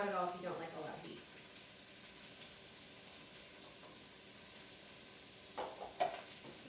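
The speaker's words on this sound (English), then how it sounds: "You give that a quick stir." Peppers, onions and jalapenos sizzle in oil in a pot with a soft, steady hiss, and a spoon stirs them briefly near the end while a person talks at the start.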